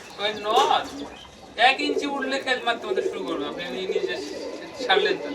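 Pigeons cooing in a loft of Getibaj show pigeons, soft repeated coos and chirps mixed with a person speaking throughout at close range.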